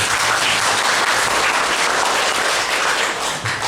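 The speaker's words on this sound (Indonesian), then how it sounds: "Tepuk tangan." A church congregation claps during a sermon, a loud dense roar of many hands that fills the space continuously and only eases slightly near the end, with no speech over it.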